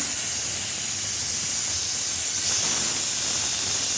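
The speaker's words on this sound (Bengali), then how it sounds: "এখন 4-5টা সিটি দেওয়া পর্যন্ত অপেক্ষা করব" A pressure cooker hisses out steam after its whistles in a home kitchen, a steady, fairly loud continuous hiss with no talking.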